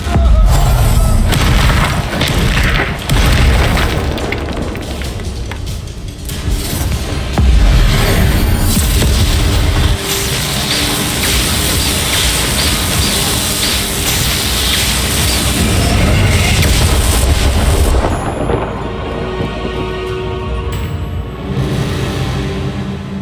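A Confringo fire spell goes off in Hogwarts Legacy, bursting into booming explosions during a dense, loud stretch of game combat full of crashes and whooshes, with game music and effects playing throughout.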